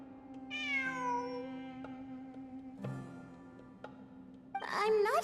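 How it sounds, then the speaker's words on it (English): A cat meows repeatedly inside the Sumeru area of Genshin Impact, with clear drawn-out mews over a steady background tone and a higher, shorter cry at the end. "I'm not hearing things. It really is a cat."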